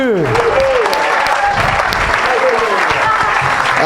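A church congregation loudly applauds and cheers in praise. Dense, sustained clapping fills the room alongside raised voices for the whole stretch.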